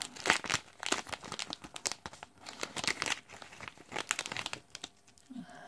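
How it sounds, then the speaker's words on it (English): Plastic packaging holding N-channel MOSFETs is ripped open by hand: close, crinkling tears in quick irregular bursts, fairly quiet, with a short pause near the end. "I can just rip it open like this."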